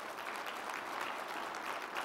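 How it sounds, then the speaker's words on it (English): A breakfast audience applauds the staff, a brief, steady burst of many hands clapping, fairly faint and even. "Let's give them a round of applause."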